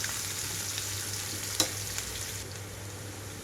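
Onions and curry leaves frying in a tempering for spinach dal give a steady, soft sizzle close by, with one brief clink or stir sound midway; no one speaks.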